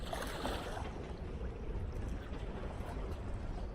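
Rough water churning and splashing against a sailboat's hull under strong, roaring storm wind on Lake Chiemsee, loud and continuous with no letup.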